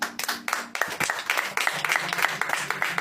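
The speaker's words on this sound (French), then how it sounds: "applaudissez quand même" An audience at a religious talk claps in sharp, distinct, somewhat rhythmic hand claps, close and moderately loud, with faint voices murmuring underneath.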